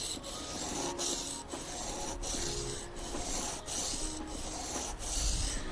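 A wood carving being sanded with 1200-grit sandpaper makes a steady, close rasping rub in regular back-and-forth strokes, roughly one per second, heard on its own.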